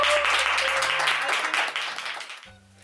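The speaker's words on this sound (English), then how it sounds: "So Hey, Now you clap." An audience bursts into applause, a dense wash of many hands clapping close by that tapers off over a few seconds before falling silent.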